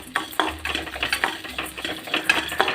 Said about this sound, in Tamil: தேங்காய் நல்லா வறுத்து